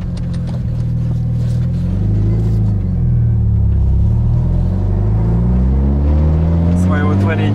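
A Mitsubishi Eclipse fitted with an Evolution engine accelerates hard in second gear, its loud engine note climbing in pitch and roaring close-up inside the car for several seconds, with a voice speaking briefly over it.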